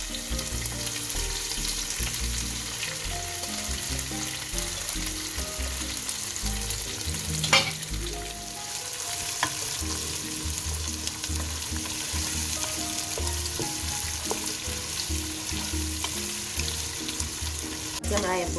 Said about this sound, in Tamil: எண்ணெய் கொதிச்சோன்னே வாசங்களை எல்லாத்தையும் போட்டு வதக்குவோம்.